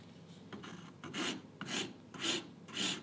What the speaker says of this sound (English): This Shinto rasp can be quite aggressive